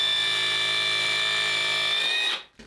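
A power drill boring a hole in a wall for an 8 mm anchor, one sustained high, steady whine up close that winds down abruptly near the end.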